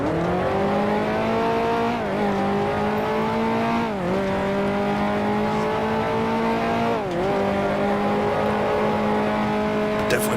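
A 1955 Formula One car in Grand Prix Legends racing at Monaco, its engine droning loud and close, with pitch dropping sharply at each of several quick gear shifts before climbing again.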